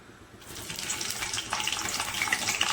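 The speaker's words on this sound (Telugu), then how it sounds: "వేడి అయినాక బిర్యానీ ఆకు వేసుకోవాలి." A bay leaf drops into hot oil for a Guthi Vankaya curry and sets off a soft, steady sizzle. The hiss builds over a few seconds and stays fairly quiet, with no voices.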